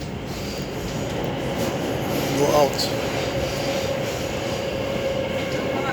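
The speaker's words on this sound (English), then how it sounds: "The metro looks like this inside" A Stockholm metro train in motion, heard from inside the car as a loud steady rumble of wheels on rail with a brief squeal midway and a few spoken words over it.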